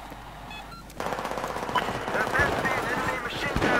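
Desert Eagle pistol fire in a video game, arriving as a fast, steady string of loud shots after a quieter opening second, with voices talking over the gunfire.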